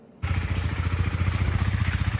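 A motorcycle that had not been ridden for a while, since being brought from the village, starts up abruptly and runs with a fast, steady thumping idle close by, with no talk.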